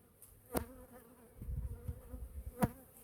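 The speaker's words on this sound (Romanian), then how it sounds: "Sunt albinele." Honey bees drone inside a beehive at close range, a soft steady buzz rising and falling with a few sharp clicks and bumps of handling mixed in.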